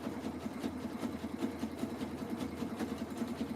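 A heavy duty sewing machine stitches a jelly roll rug, running steadily with a rapid, even mechanical chatter and low motor hum, close and continuous throughout with no talk.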